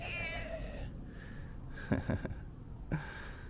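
A pet kitten lets out a meow at the start, followed by softer breathy snorts and small sounds close by at moderate level, with no talking.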